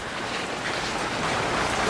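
Heavy rain pours down outside, a dense, steady hiss of splashing water that holds at an even loudness throughout with no voices over it.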